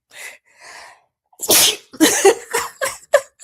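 Two soft breathy intakes, a short pause, then one loud sneeze followed by a few sniffs or small aftershocks, close to the microphone.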